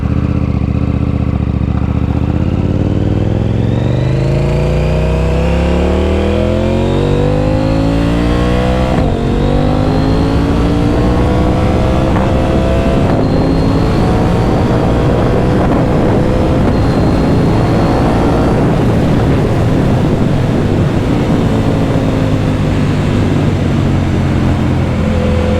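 A 2020 KTM Duke 890R naked motorcycle at riding speed, its engine droning loud and continuous with rising and falling revs through gear changes, wrapped in heavy wind rush throughout.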